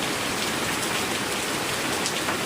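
Steady rain falls on a village in Hong Kong, a dense, even patter of drops on surfaces that holds constant and close throughout, with no voices.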